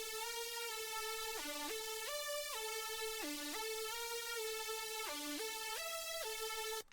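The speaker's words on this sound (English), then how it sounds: "Then we added a lead after that." A bright synth lead from a beat made in FL Studio plays a steady stepped melody of sustained buzzy notes, dipping and rising in short repeated phrases, alone and at even loudness.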